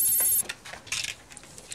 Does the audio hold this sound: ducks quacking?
no